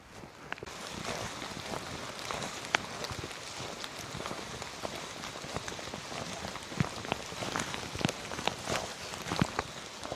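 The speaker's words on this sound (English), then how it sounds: "at this point, I don't even mind the rain anymore" Rain falling in a dense forest patters steadily through the canopy, with scattered louder drips striking close by over a continuous soft hiss.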